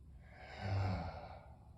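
A single slow inhale, soft and close, swells to a peak and then fades in a breathy hush.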